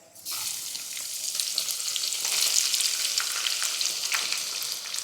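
Chopped onion fries with whole spices in hot oil in a pan while paneer biryani is being made. A strong sizzle starts abruptly as the onion goes in and keeps crackling densely, with faint stirring taps under it.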